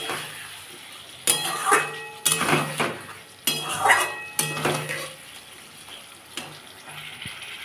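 Fried pointed gourd (parwal) is stirred into a sizzling poppy-seed spice paste in a pan. Several loud, scraping strokes of sizzle and clatter come in bursts over a softer background hiss.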